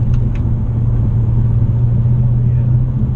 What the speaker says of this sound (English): this road is actually a really good road for testing the cornering ability of this car, especially in the Sport Plus mode